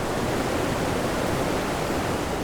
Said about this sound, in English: visitors take in sights and sounds of beautiful waterfalls pouring from various heights